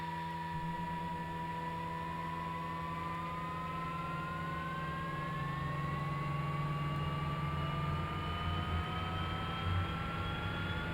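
A Kodiak turboprop engine runs steadily in a flight simulator game, a smooth, even drone with a rising turbine whine, held at a constant moderate level throughout with no talk.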